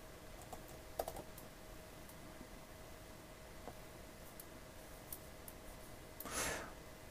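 Quiet, crisp key clicks on a 2021 Apple Magic Keyboard for the 12.9-inch iPad Pro, a few scattered taps with a short flurry near the end, heard close and alone in a still room.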